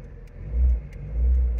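Trabant 1.3 Kombi fitted with a Wartburg engine revs twice in strong low surges, close and loud, with a short easing between the pulls and no talking.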